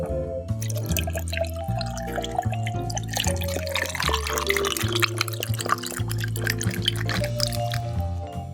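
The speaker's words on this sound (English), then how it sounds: "And then top with cranberry juice." Cranberry juice pours steadily into a Sea Breeze cocktail of vodka and grapefruit juice, a continuous close liquid trickle and splash running under a backdrop of music.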